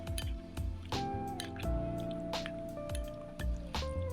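Wet squelching and dripping as spices are rubbed by hand into raw chicken, a series of close, soft squishy pulses repeating every half second or so.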